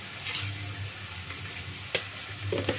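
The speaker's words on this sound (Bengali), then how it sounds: "সামান্য আদা বাটা, রসুন বাটা দিয়ে নাড়িয়ে দিচ্ছি" Meat stirred in a pan with ginger and garlic paste, for a meat and broccoli dish, a steady frying sizzle broken by scraping strokes and a low hum, no talking.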